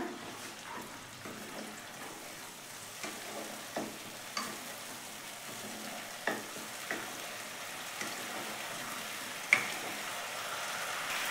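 Eggplant curry with coconut milk simmers in a pan with a soft, steady sizzle, broken by a scattering of light spoon scrapes and taps as it is stirred, all fairly quiet and without speech.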